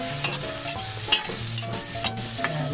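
Ground beef, a lean cut, frying in a pot for sopas, with a steady close sizzle and repeated scraping stirs of a utensil against the pot, no voices.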